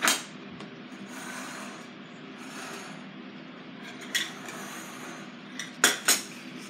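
Glass relish jars being shuffled around on a table, with scattered clinks and scrapes, a few sharper knocks near the end, fairly close amid a quiet room.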